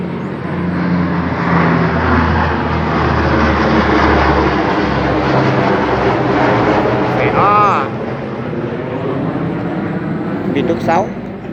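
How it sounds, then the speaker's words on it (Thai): A broad, steady roar of an airplane passing overhead fills the background while someone talks over it. "ได้ยินเสียงเครื่องบินครับ"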